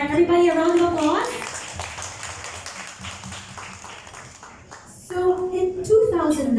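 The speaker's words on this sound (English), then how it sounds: "Everybody, a round of applause." An audience claps for a campaigner who has spent 20 years working against malaria in Palawan, with a steady patter of hands between stretches of a speaking voice at the start and end.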